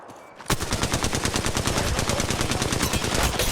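Sustained rapid automatic gunfire from the Apex Legends Mobile video game starts abruptly and rattles on loudly and evenly with no talking over it.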